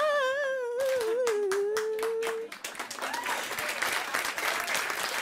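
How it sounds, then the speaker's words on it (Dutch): Audience clapping after a theatre scene, starting as sharp, sparse claps under a sung melodic voice, then thickening into fuller, denser applause with a talking voice over it. "En ja, applaus nogmaals."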